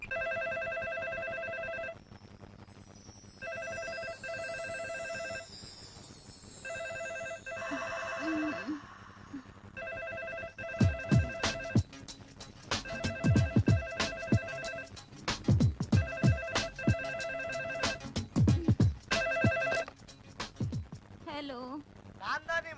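A telephone rings indoors in repeated, evenly spaced bursts that carry on throughout, with footsteps and a voice speaking over the later rings.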